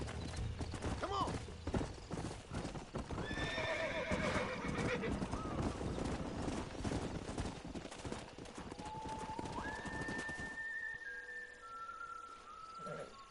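In the Red Dead Redemption video game, a horse whinnies and snorts among brisk clip-clopping hoofbeats, followed by a few clear whistled tones near the end, loud and close.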